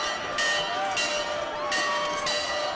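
A fan rings the Monon Bell at a college football game, with several bright, ringing metallic strikes in bursts, each clang sustaining over a continuous crowd roar and a voice talking.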